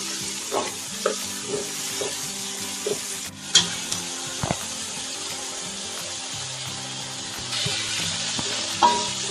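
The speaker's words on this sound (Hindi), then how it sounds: "अनियन को हमने 2 मिनट्स के लिए सॉटे किया।" Onions and spring onions sautéing in a pan for restaurant-style chicken fried rice, a steady sizzle with occasional sharp clinks and scrapes of a stirring utensil against the pan throughout.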